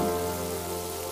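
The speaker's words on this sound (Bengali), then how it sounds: "এই মিডিয়াম আঁচেই কিন্তু ব্রাউন কালার হওয়া পর্যন্ত খুব ভালোভাবে ভেজে নিব।" Chicken popcorn pieces frying in hot oil over medium heat, a loud steady hiss and crackle that fills the whole moment without pause.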